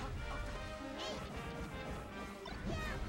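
A forward smash landing in a Super Smash Bros. Melee match between Fox and Ice Climbers, a sharp crash burst over steady, loud game noise and crowd din.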